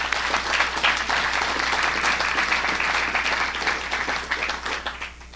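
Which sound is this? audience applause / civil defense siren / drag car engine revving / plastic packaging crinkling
audience applause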